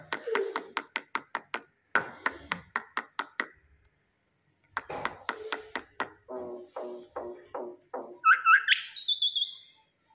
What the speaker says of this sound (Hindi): देखा हमारी मैना को किस तरह बोलती है मैना